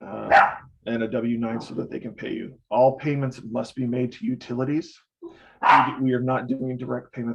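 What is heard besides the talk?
dog barking behind the speaker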